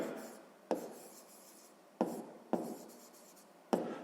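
Pen strokes scratch across paper while a math solution for a sixth-grade exercise is handwritten, with four quick sharp marks each trailing into softer scribbling, close and quiet.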